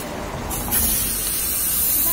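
Air hisses steadily and loudly from a pump into a football, a continuous spray-like rush that grows slightly brighter after the first half second, with no talking.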